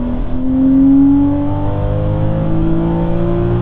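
A Porsche Cayman 981 engine revs up close as the driver accelerates and drops from third to second gear, a loud, smooth rising drone with pitch shifts as the gears change.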